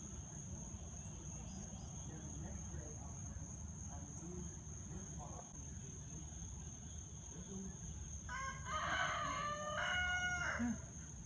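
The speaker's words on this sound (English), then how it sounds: "See if he cock-a-doodle-doos." A rooster crows near the end at St. Joseph's Abbey, one drawn-out call rising over a constant background of chirping insects and faint ambient noise.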